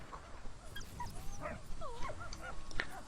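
A dog in the First World War video game Valiant Hearts: The Great War gives short yips and whimpering barks, several quick bursts over quiet game ambience.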